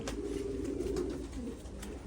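Pigeons cooing in a loft, soft continuous low murmuring calls close by against a faint background hum.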